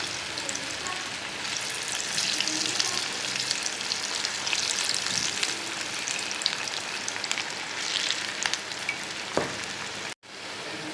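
Small pieces of kunukku batter fry in hot oil over a medium flame, giving a steady, dense sizzle with crackling pops that holds for the whole stretch before a brief cutoff near the end.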